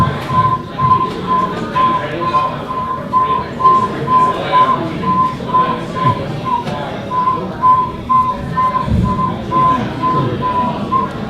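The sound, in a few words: person imitating northern saw-whet owl call by whistling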